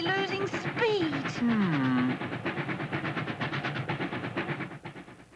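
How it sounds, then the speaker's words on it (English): Steam train running on rails at speed, a rapid steady chugging and clatter with a whistle-like falling tone near the start, loud and close, with a voice speaking over it early on. "Our pursuit train is rapidly catching the hijackers."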